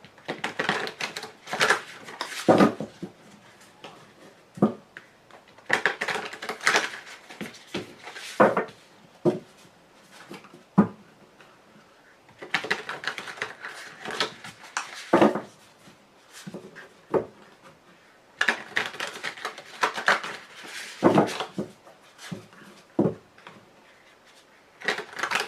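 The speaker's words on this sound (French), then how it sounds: "mon jeu, j'ai un peu du mal à le mélanger parce que il est neuf" A new deck of tarot cards being shuffled in repeated bursts of dry riffling, rubbing and tapping, close and fairly loud, with short pauses between rounds and no voice.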